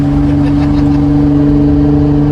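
A sports car engine revs loud and close with a steady, droning hum and strong harmonic tones, holding a revving pitch for a couple of seconds.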